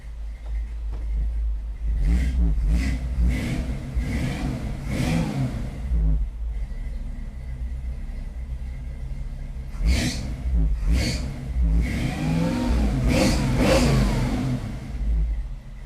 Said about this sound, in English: That is a healthy sounding 5-liter.